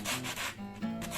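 Fine-grit sandpaper rubs back and forth in quick, close strokes, a soft rhythmic scratching with no talking.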